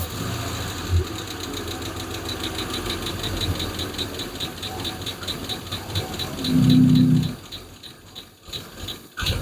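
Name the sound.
lifter clanking in Hemi Plymouth Duster V8 engine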